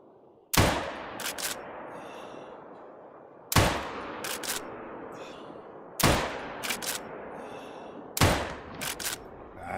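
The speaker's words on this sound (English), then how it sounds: "We're going to put a few shots down, which may be my favorite new rifle" A new rifle fired in a hunting video game: four loud, booming single shots spaced about three seconds apart, each trailing into a rolling echo with faint bolt clicks between.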